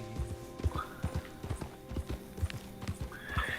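Horse hooves in the video game Red Dead Redemption 2, a brisk, even clip-clop of a trotting horse close by, with a brief whinny and some faint background game sound.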